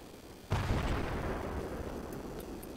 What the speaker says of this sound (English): I threw a grenade at my feet